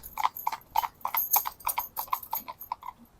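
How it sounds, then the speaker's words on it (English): Horse hooves clip-clop in a quick, steady rhythm as a driven horse trots along, close and clear, with no voices over the hoofbeats. "Anyone can make horse go fast, but we've got to stop them when we want to."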